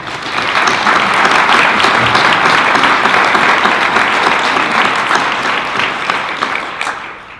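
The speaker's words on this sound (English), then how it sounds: "they deserve a round of applause" A large room at a school board meeting fills with loud, dense applause honoring students, the clapping sustained at full strength before easing off toward the end.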